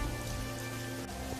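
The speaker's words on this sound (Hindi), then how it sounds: "लेकिन बारिश थी कि रुकने का नाम तक नहीं ले रही थी" Heavy, steady rain pours down on a poor family's hut, a dense continuous hiss of drops on surfaces with no letup, loud and close throughout.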